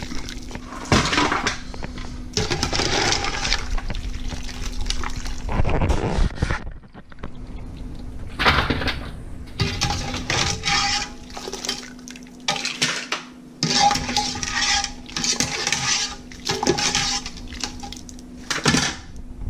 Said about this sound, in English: We're going to go ahead and take out the mussels and the shrimp.